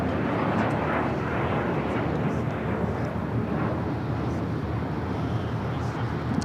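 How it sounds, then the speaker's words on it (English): Avianca A320neo airliner arriving on the south side at LAX, a steady broad roar of jet engines held at constant loudness throughout, close and continuous with no other sounds standing out. "Avianca A320 Neo arriving here on the south side."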